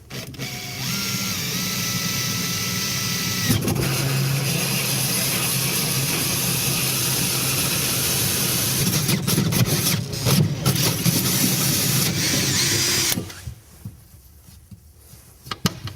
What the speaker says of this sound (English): We're going to line it up right dead center and start drilling through.